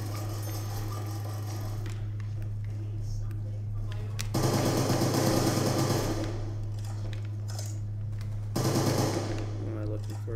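Rapid bursts of gunfire from a three-round burst gun in Call of Duty Black Ops crackle in two loud clusters of several seconds each over a steady game hum, with talking in the background.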